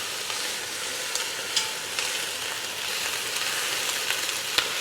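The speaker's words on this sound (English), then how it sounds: "I'm just going to kind of sear them on the sides with this onion" Ham hocks sear with onion in a hot pan for stovetop northern beans, giving a steady, close, broadband sizzle with a few sharp crackles and pops scattered throughout and no voices.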